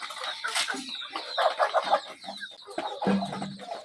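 Native hens cluck and chatter close by in a backyard flock. The calls come in overlapping bursts with rustling around them.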